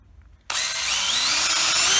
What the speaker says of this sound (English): I am just going to pre-drill some holes in the center